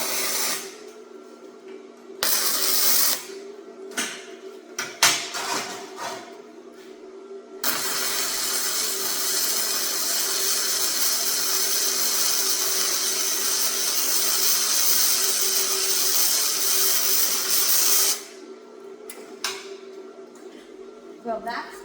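A Bestarc MIG 145 flux core welder lays a bead on quarter-inch steel, giving a long steady crackling hiss up close, with brief bursts and some talk around it before the run.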